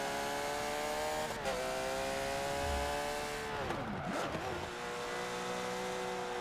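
Porsche 911 GT3 RSR race car on Circuit de Spa-Francorchamps in the Forza video game, its engine revving high with sweeping pitch falls on downshifts and climbs on acceleration, loud and continuous.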